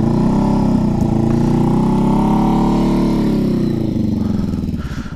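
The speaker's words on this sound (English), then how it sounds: "you raise the RPMs and you let out the clutch slowly" A 2012 Kawasaki Vulcan 900 motorcycle in a parking lot revs steadily and pulls away with a close, loud, throbbing engine drone that rises slightly in pitch, then fades a little as it moves off.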